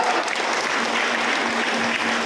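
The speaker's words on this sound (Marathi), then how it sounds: "तेव्हा टाळ्या वाजवा" An audience applauds at a felicitation and prize-giving ceremony in Phaltan, a dense, continuous wash of many hands clapping at a steady level for a couple of seconds, fairly close.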